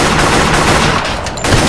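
Loud, continuous machine gun fire blazes in the Android shooter Gang War Mafia, a dense unbroken rattle filling under two seconds.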